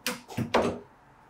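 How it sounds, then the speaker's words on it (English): Door handle post and spindle being fitted through a door latch: three quick, close metallic clacks and knocks in about a second, followed by quiet. "Now put that bottom post through the hole you made in the door and the spindle through the bottom latch."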